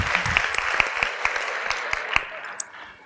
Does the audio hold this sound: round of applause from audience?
yes